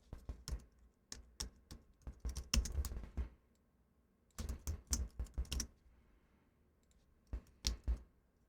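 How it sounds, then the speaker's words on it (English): Mouse clicks and computer keyboard typing during audiobook editing work, coming in two busy bursts of rapid, close taps with a short sparse stretch between them and a few final isolated clicks. "notice I'm clicking here, and then I'm typing what I need to type, then hitting right on my cursors"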